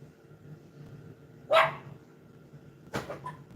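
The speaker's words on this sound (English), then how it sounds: "This dog, he just barks at everything that has a pulse." A dog barks twice, a sharp single bark followed a second and a half later by a shorter burst, over a quiet room with a faint low hum.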